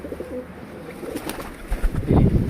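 Homing pigeons on a rooftop give soft cooing calls, with a burst of fluttering, louder activity near the end.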